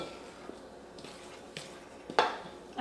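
A wooden spoon stirs baking soda and baking powder together in a bowl, giving soft scraping and a few light knocks against the sides, close up and growing louder toward the end, with no one speaking.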